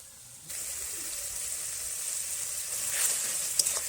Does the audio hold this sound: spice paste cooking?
yes